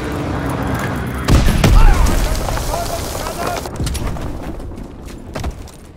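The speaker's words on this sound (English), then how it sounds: "Fritz X bomb mission underway." Fritz X bombs explode in Call of Duty WWII, a loud, deep blast landing about a second in and rumbling on amid scattered battlefield gunfire, with voices shouting over the chaos.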